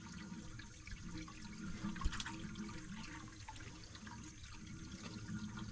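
Water flows and splashes continuously from an artesian well through plumbing, a faint, steady gurgling rush with a single small knock partway through.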